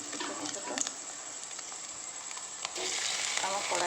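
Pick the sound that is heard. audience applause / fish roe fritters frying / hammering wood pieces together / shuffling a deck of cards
fish roe fritters frying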